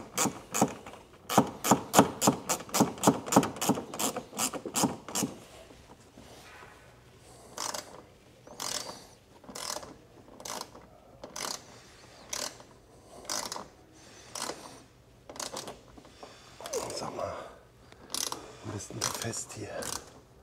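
A hand ratchet works on the screws of a Dacia Sandero Stepway III front grille, giving fast bursts of sharp clicking, then slower, spaced clicking strokes, close by with brief talk in between.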